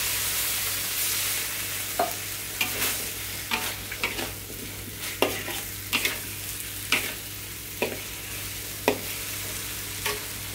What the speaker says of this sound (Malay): Kita tumis sekejap dan bolehlah dihidangkan.